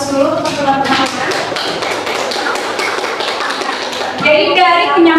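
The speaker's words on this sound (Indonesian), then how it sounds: "Kita berikan aplaus dulu untuk teman-teman." Students in a classroom clap for classmates who just presented, a brief burst of many hands tapping together loudly, mixed with voices of children and a teacher talking.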